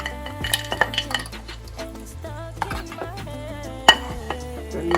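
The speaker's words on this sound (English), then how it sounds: "Now we're gonna put our meat back in." Chunks of meat go back into a pot of Senegambian jollof rice (benachin), with clinks and scrapes of a utensil against the metal pot and a soft sizzle, close up with no talk.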